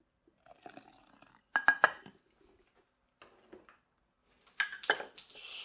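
Hot water stirred into Jell-O mix in a glass bowl, with a few clinking scrapes and taps of the utensil against the glass in short bursts, near and fairly loud, separated by quiet gaps.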